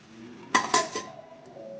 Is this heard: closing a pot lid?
yes